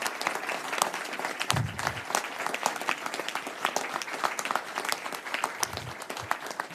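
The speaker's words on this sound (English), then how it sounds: "I ask for your applause for those who've come from around the country" An outdoor crowd at a Christmastime commemoration of the Sandy Hook shooting's fourth anniversary applauds visitors from around the country, sustained clapping from many hands with a few louder nearby claps and brief low rumbles, no speech over it.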